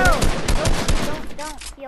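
Rapid bursts of automatic gunfire in a shooting video game, loud and close, with a few distinct shots and ringing tails, partly over faint player chatter.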